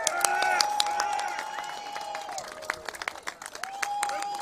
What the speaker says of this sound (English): Please give us some applause for Joe Kent.